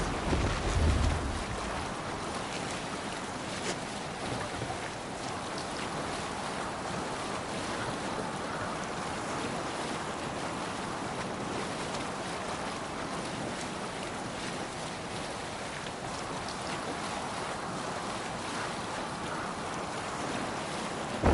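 A Viking longship sails across open sea in the video game Assassin's Creed Valhalla, with continuous wash of waves and wind rushing steadily for the whole stretch after a brief low thump at the start, no voices.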